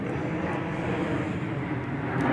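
A fixed-wing airplane drones overhead as a steady, broad roar that holds at an even level throughout, with no voices.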